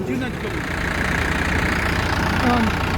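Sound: tractor engine idling

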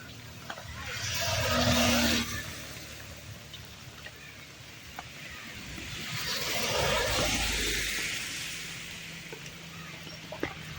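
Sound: vehicles passing on the Mumbai-Goa highway

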